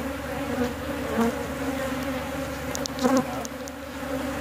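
Honeybees buzz around an open backyard hive, a dense steady hum up close with a few louder passes and light clicks of handling.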